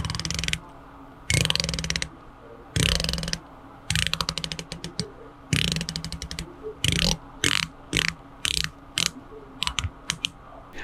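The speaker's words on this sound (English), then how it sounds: "Now let's go ahead and give this fascinating bezel a click test." Ratcheting clicks come from the rotating bezel of a Doxa Sub 200T dive watch as it is turned in short bursts. The crisp, close clicks form rapid runs separated by brief pauses.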